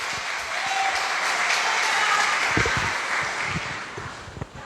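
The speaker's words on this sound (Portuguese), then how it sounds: "Dá um louvor de palmas para o Senhor nessa noite." A church congregation claps together during an evening service, a dense and sustained burst of applause that fades toward the end.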